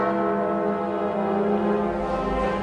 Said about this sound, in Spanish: se necesitaban una serie de campanas para marcar el paso del tiempo y una enorme campana